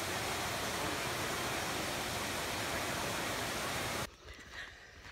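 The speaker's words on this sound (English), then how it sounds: "one of the little waterfalls, swimming, baby waterfall" Steady, dense rush of a small waterfall on Maui, broadband and unbroken for about four seconds before cutting abruptly to a much quieter, faint background.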